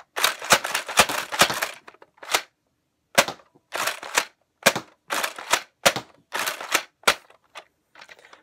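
Nerf Zombie Strike Doominator blaster firing foam darts, some by slam fire, in quick sharp snapping bursts with short gaps between shots, close and clear with no talk.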